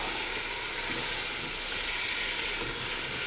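Green chili chicken being mixed in a hot pan, a steady, fairly loud sizzle and frying hiss with no pauses and no voices.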